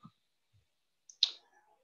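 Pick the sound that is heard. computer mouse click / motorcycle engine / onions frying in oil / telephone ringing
computer mouse click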